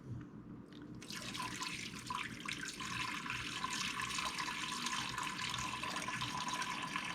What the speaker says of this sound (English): We're going to pour water in here about 1/4 ways up.